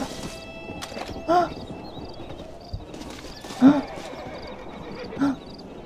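A horse in the Red Dead Redemption video game, with hoofbeats and clatter and three short loud bursts like neighs or cries over a busy game soundscape, and faint voices in the background.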